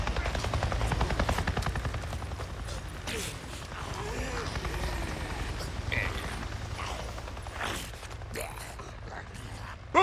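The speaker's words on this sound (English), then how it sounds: "A Nero chopper! It just buzzed right over me." In the Days Gone video game, a NERO helicopter flies overhead, its rotor a steady low thumping that fades somewhat over ten seconds, with scattered creaks and mechanical clicks on top.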